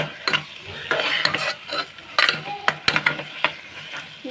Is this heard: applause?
no